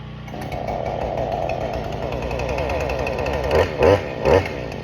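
A Husqvarna chainsaw runs steadily close by with a buzzing two-stroke drone, and the engine revs up briefly twice near the end.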